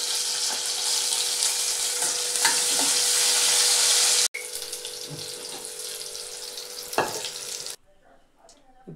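Green chillies and cumin seeds fry in a pan with a loud, close sizzle and some stirring. After a sharp cut the sizzle continues a little softer, then it drops to a much quieter tail. No one speaks.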